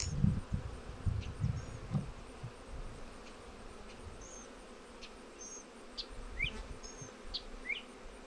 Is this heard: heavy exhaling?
no